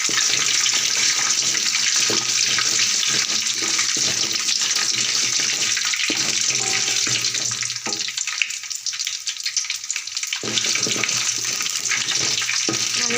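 Mustard seeds, garlic and dried red chillies fry in hot oil, a loud continuous sizzle and hiss that fills the whole stretch, dipping only briefly near the middle, up close with no talking.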